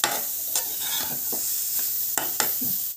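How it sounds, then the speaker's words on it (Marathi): Carrot halwa is stirred in a pan with a spoon, giving repeated scraping strokes over a steady sizzle, close and alone with no talking. "सगळं नीट व्यवस्थित फिरवून घेऊया"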